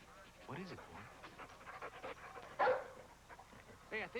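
A dog pants and gives a short yip and a bark during a search, close and moderately loud, with brief whimpers, a voice speaking around it and a sharper burst midway through.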